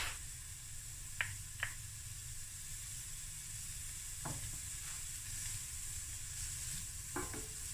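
Minced garlic clove sweats in a hot pan with a steady soft sizzle, a few brief clinks of a utensil stirring breaking through near the start and end; no voices.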